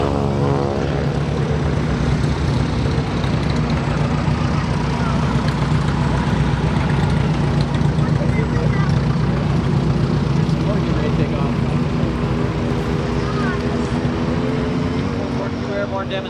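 A Curtiss C-46 Commando, a twin-engine propeller transport, on its takeoff roll, with loud continuous piston engine drone and propeller roar throughout, close and sustained, with a voice speaking over it.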